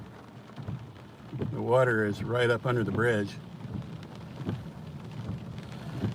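Rain keeps falling in eastern North Carolina in the aftermath of Hurricane Florence, a steady soft patter heard from near a flooded bridge under a man's close, loud speech.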